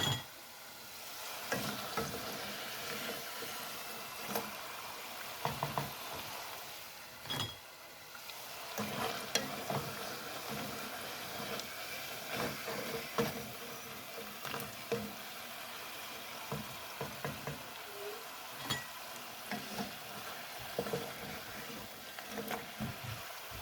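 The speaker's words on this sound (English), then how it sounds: "we're gonna put the rest of our plantain in to cook" Plantain pieces frying in a pan make a soft, continuous sizzle broken by clattering stirs and utensil knocks, moderately quiet and with no talking.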